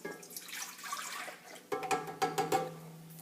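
Evaporated milk is poured into a large bowl for white bread dough, a soft liquid splash first, then a few distinct glugging drips near the end.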